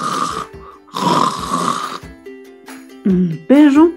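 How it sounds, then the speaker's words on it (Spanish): Snoring from a dog in a children's story, rhythmic rasping breaths repeated several times up close, ending with a voiced grunting snore. "Y el perro siguió roncando."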